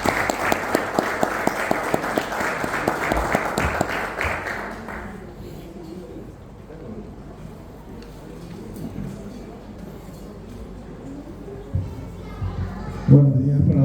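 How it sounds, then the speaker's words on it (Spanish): Audience applause greets a speaker at a tribute ceremony, with loud clapping filling the first few seconds before fading into a murmuring crowd and scattered noise. "Lo recibimos con un fuerte aplauso"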